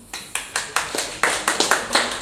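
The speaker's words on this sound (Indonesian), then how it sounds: "Tepuk tangan lebih dahulu." An audience at an Indonesian event gives a short burst of rhythmic clapping, about a dozen sharp, fairly close claps in quick succession, with no talking.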